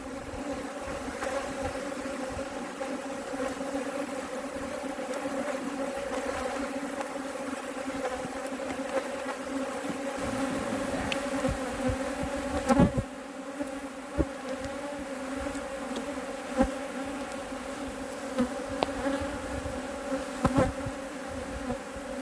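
A dense, continuous buzz of a swarm of bees settled in an empty brood box hums steadily and close, with individual insects droning past and occasional soft knocks.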